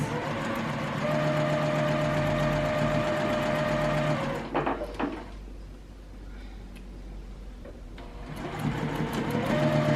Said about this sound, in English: here I'm going to sew with the white on the top